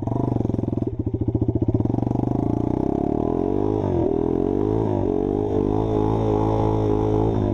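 A tractor engine runs steadily on a winter day just after starting, a loud close diesel idle with a coarse clatter early on and small rises and dips in revs later.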